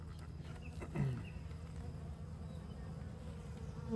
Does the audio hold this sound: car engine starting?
no